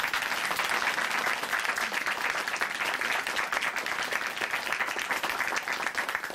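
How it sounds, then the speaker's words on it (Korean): Sustained, dense applause from a church audience at a Korean Christian television program taping, loud and steady throughout with no pauses. "다시 한번 응원의 박수 보내드리겠습니다"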